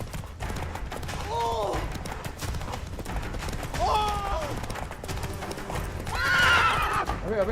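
Roach the horse in The Witcher 3 gallops with steady clip-clop hoofbeats and gives several loud whinnies, strongest near the end, while voices talk over the ride.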